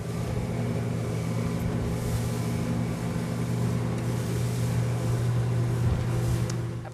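A Ranieri motorboat turning at speed, its engine roaring steadily with a rushing water wash, holding a constant loud drone throughout.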